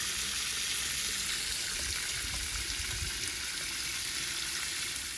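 A submersible pump pushes vinegar through a Rinnai tankless water heater during a flush, giving a steady, continuous watery hiss and churning rush that stays even and close throughout with no voices.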